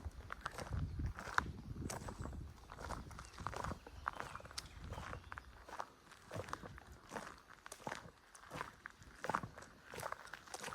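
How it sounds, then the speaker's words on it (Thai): Slow footsteps crunch through a Swedish forest on a chanterelle-gathering outing, a steady series of close, soft crunching steps lasting about ten seconds, without talk. "ดินเร็วไม่ได้ค่ะ ต้องค่อย ๆ เดินไปเนาะ"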